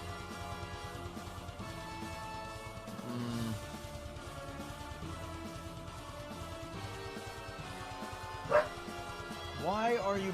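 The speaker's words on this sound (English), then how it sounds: "Why are you barking, baby?" A pet dog barks a few times, faint at first and then a sharper yip near the end, under steady background music.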